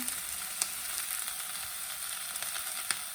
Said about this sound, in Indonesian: Sekarang kita sudah boleh taruh ini ya, santannya.